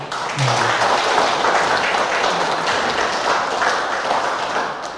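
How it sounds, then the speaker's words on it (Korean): A church congregation at Sunday worship claps together, a close, lively burst of applause that holds steady for several seconds before easing slightly at the end. "우리 박수 한번 해드리시죠"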